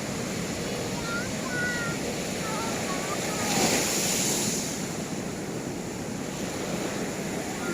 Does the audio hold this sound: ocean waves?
yes